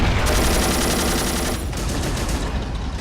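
Continuous, dense gunfire from the World War II strategy game Men of War: Assault Squad 2, with machine-gun bursts and overlapping shots forming a loud, unbroken wall of battle noise.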